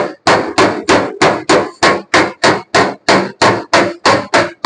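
Steady, evenly spaced hammer blows on the steel of a car's front fender while dents are beaten out, about fifteen loud, close strikes in under five seconds, each with a short metallic ring and no talk.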